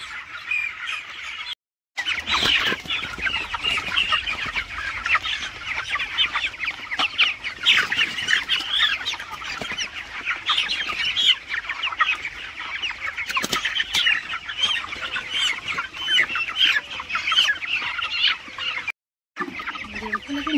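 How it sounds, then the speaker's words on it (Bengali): Broiler chickens at a poultry farm cluck and squawk continuously, a dense flock chorus close by, with brief gaps of silence. "তবে এটা ব্রয়লার মুরগি"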